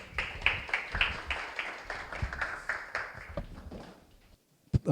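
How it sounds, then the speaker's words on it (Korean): An audience at a mainnet launch event claps for a presenter taking the stage, a moderate, fairly quiet round of hand claps that thins and fades out after about four seconds, followed by a short silence and one brief sound at the end. "큰 박수 부탁드리겠습니다"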